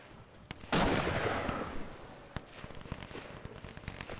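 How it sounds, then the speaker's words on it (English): Artillery cannon fire in a Napoleonic-era strategy battle game: one loud, close blast rolls off into a long decaying rumble, with scattered sharp distant shots popping before and after. "Is that friendly artillery firing at me?"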